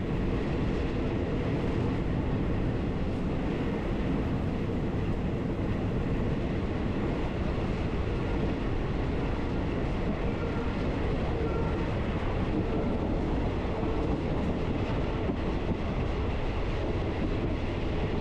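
A Thai train rumbles steadily past nearby as it arrives at a station, a continuous loud rolling roar with faint rail clatter and no voices.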